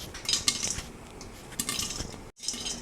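Popcorn kernels popping inside a covered kadai during home cooking, giving scattered sharp ticks and taps against the metal lid and pan, with a steady rustling bed underneath and no talk.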